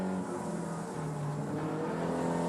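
A BMW M3 race car at the 1987 James Hardie 1000 at Bathurst, a steady loud engine drone with shifting pitch as it runs through the corners, no talking.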